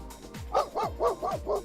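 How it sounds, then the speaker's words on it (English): A dog barking five times in a quick, even series, each bark sharp and fairly close. "And that's a doggo."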